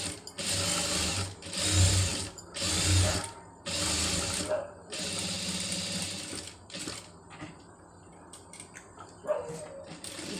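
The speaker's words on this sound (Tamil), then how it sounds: "இப்போ நான் இதில் இன்னொரு தையல் வந்து போட்டுறேன்." A sewing machine stitching through layers of lace in several close bursts of rapid mechanical whirring, separated by brief stops, then quieter handling and fabric noise, with a dog barking faintly at points.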